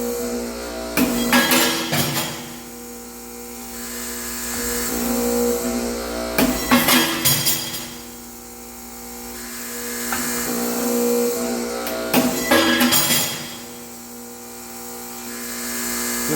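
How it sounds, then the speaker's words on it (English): An ironworker machine shears flat bar in a workshop: three loud clanking cuts come at regular intervals of about five seconds, each followed by the motor's steady whirring hum. "I just push the flat bar through and I take my foot off the ram up"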